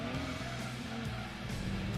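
Honda CRX engine in the racing video game Gran Turismo 2, a steady high-pitched rev held near and loud for about two seconds with a tyre-squeal edge.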